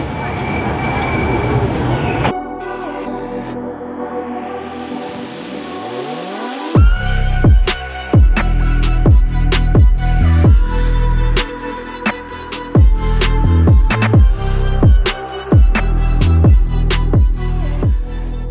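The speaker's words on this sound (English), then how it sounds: "We've never been that close to a moving train before." A train rolls past within millimetres on a narrow street in Hanoi, Vietnam, its wheels clattering in a loud, rapid rhythm over rail joints after a rising horn-like approach, with voices audible before it arrives.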